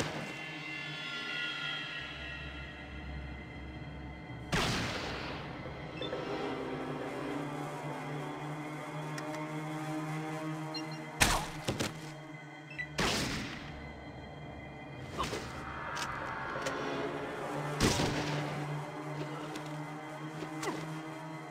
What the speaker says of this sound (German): Ich glaube, ich schieße direkt auf sie.